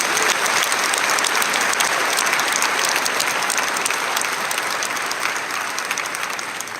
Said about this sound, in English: Let's give another big round of applause for our graduates.